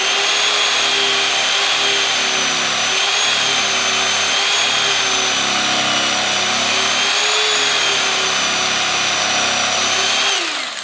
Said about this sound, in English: So I'll take the electric knife here.